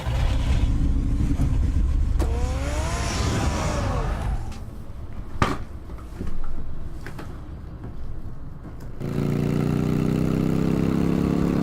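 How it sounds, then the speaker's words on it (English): Car engine idling in the Batman Telltale video game, a steady low rumble that fades midway, returns louder near the end, with scattered clunks and a brief rising whine. "Get the car ready, Alfred."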